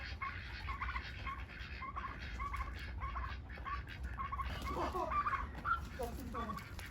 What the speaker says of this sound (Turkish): Hindi beni koruyor.